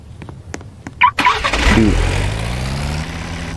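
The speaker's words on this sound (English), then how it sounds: "get out a car, go drive around" A car engine in the video game Anomic cranks with a few clicks and a starter whir, then catches and settles into a steady idle hum that holds to the end, loud and close with no talk.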